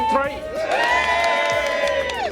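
At a Ford car show at Beaulieu, an outdoor crowd cheers for a Fordson van, a loud burst of whoops and shouting voices sustained for a couple of seconds before tailing off.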